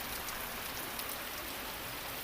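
Heavy rain pours down in a dense, unbroken roar of drops that stays loud and steady throughout.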